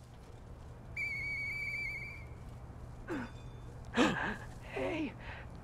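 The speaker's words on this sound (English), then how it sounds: "I know that whistle. It must be Murphy." A single steady whistled note from a character in the video game Lies of P, held for about a second, followed by faint breathy vocal sounds and gasps.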